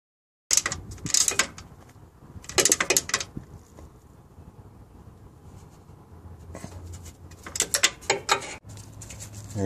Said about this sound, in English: Now I'm installing the bolt.